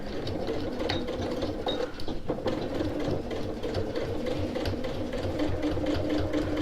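A sewing machine runs steadily while top stitching a reversible tote bag, a continuous close mechanical whirring with a fast rhythmic needle chatter throughout and no pauses.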